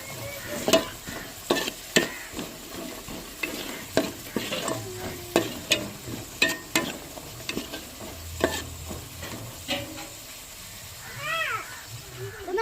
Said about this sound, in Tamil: மசாலா வடை போகிற அளவுக்கு நல்லா கிண்டிக்கிறோம்